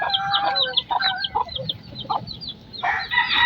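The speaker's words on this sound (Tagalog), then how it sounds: "May mga sisiw na yung iba oh." Nearby hens cluck in short bursts while chicks add high, rapid peeping, with a rustling yard backdrop behind them.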